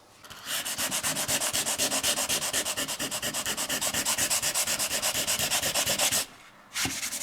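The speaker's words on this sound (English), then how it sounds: "Do we have to do the little sand thing on that just to sharpen it up?" A wooden sign is sanded by hand in quick, rhythmic back-and-forth strokes, loud and close, with a brief pause near the end before the rubbing resumes.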